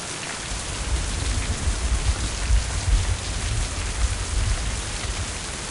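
Steady rain pours down in the video game Mind: Path to Thalamus Enhanced Edition, a dense hiss of drops with a low rumbling undertone, continuous and fairly loud.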